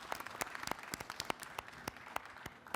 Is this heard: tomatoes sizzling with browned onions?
no